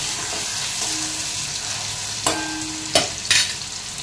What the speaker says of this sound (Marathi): कांदा टोमॅटो फ्राय झाल्यावर थोडीशी लाल मिरची पावडर टाकले